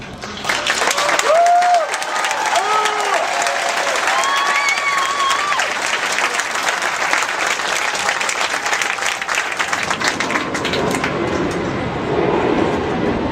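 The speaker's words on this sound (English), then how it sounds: "please join me in a round of applause for the company staff of Company I" An audience at a Marine Corps graduation ceremony applauds the company staff, loud sustained clapping with cheers and whistles rising over it, then easing toward the end.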